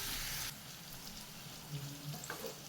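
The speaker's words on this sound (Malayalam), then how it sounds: "ഇത് എണ്ണയിലിട്ടൊന്ന് വറുത്ത് കോരിയെടുക്കാം" Steady crackling sizzle of chicken sausage deep-frying in hot oil, a louder burst at first, then an even hiss with a few small pops.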